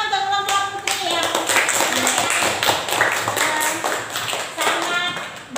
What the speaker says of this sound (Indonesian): tepuk tangan untuk kelompok Putri ya